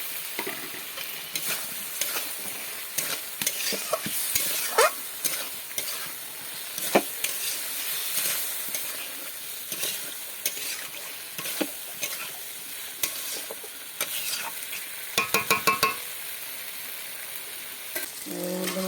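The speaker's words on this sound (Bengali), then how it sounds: "এবার এর মধ্যে আমি কষে রাখা আলুগুলো দিয়ে দেবো" Pre-fried potatoes are stirred into a ginger-tomato spice mix with ground coriander and cumin in a frying pan. Repeated scraping and clacking of a spatula sit over a continuous sizzle, with a quick rattling burst near the end.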